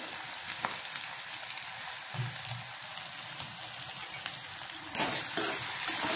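Potatoes sauté in a hot pan with a steady, close sizzling hiss and a few scraping stirs, the frying growing louder near the end.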